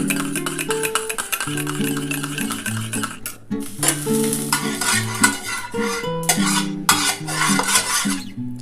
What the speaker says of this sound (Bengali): এরকম আমি টোটাল 5খানা ডিম ভেজে নেবো বন্ধুরা